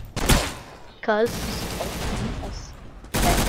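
Sharp, loud shotgun blasts in Roblox Arsenal, one at the start and another near the end, with a spoken word and quieter game sounds in between.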